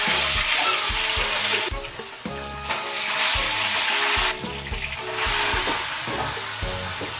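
Tilapia sizzles and crackles in hot oil in a frying pan, a loud steady hiss that swells and dips over several seconds, with faint background music.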